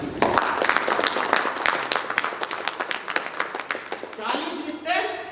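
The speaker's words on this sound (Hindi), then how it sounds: "एक बार जोरदार ताली होनी चाहिए" Loud audience applause at a motivational talk, a dense burst of many hands clapping that swells and then thins out, with voices rising over the tail end.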